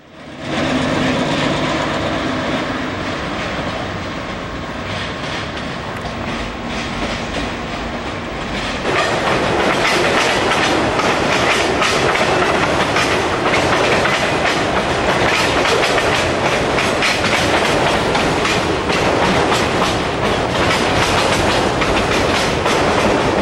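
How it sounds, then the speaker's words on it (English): A train rolls past close by at an outdoor event in Davison. A loud, continuous rumble with rhythmic clickety-clack from the wheels grows heavier and brighter partway through and stays strong to the end. "here comes the train here."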